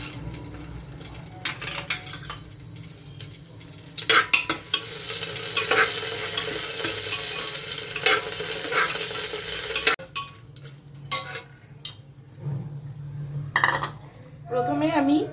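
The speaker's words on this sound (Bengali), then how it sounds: "এবারে সম্বারগুলো দিয়ে দিচ্ছি।" Whole tempering spices drop into hot ghee and mustard oil in a pan, setting off a loud bright sizzle that swells and then settles, with spatula scrapes and clinks of utensils around it.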